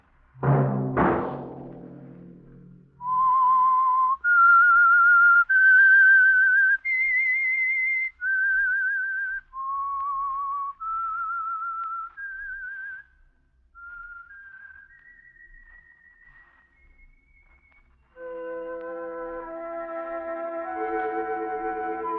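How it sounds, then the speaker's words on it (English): A lone whistled tune, the theme of the radio mystery program The Whistler, rises in clear sustained notes after a brief opening chord, then gives way to orchestral music; loud and close with no voices. "Let that whistle be your signal for the Signal Oil program, The Whistler"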